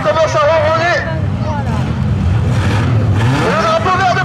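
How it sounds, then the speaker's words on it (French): Super stock cars at an oval race in Beaumont du Gâtinais rumble and rev their engines with rising and falling pitch, over a steady low drone as a commentator talks throughout. "Les voitures commencent à ronronner."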